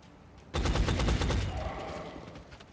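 Gunfire in the XCOM strategy game, a sudden burst of rapid automatic shots that starts loud and trails off into a fading rattle and echo, with no talking over it.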